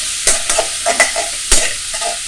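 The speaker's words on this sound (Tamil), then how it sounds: "இது இப்போ ஆனியன் வறுக்க போகிறேன்." Onion, green chili and curry leaves fry in a pan with a steady, close sizzle, broken by several sharp scraping stirs of a spatula in irregular rhythm.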